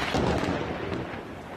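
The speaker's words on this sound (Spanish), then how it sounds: "Esta tormenta ha sorprendido a los vecinos de Albacete" A thunderstorm over Albacete rumbles with a deep rolling thunder peal, loud at first and then slowly fading, mixed with a steady wash of rain noise.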